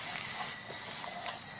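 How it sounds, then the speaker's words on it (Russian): Fish sizzles in a dry pan without oil over a campfire on a solo hike, a constant bright hissing crackle with faint pops, fairly close and steady with no talking. "Рыбка-то моя жарится."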